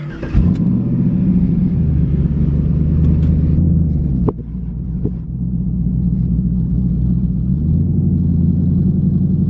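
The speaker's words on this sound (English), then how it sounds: "now it's starting, I'm not touching the gas at all, and it's hovering right around 1400" A V8 engine in a WS6 Trans Am with cam, intake and headers rumbles steadily at idle around 1400 rpm, a deep continuous drone with a couple of small clicks and a slight shift in pitch partway through.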